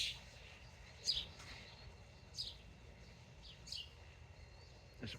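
Sparse bird chirps outdoors, where one bird is raiding another bird's nest: a few short, high calls spaced a second or so apart, faint and distant over a low background rumble.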